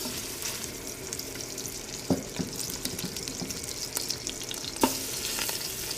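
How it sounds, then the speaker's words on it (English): Lamb shanks sear in hot oil in a pan, a steady loud sizzle and crackle with a couple of sharp spatters as the meat is worked, no talking. "I'm gonna work these, sear them hard on all sides"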